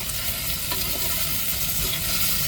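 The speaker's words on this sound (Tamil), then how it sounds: "தக்காளியும் பச்சை மிளகாயும் நல்லா வெங்காயத்தோடு சேர்ந்து வதங்கட்டும்" Tomatoes, green chillies and onions sautéing in a pan for a Tamil egg curry, giving a dense, continuous close sizzle with no talking.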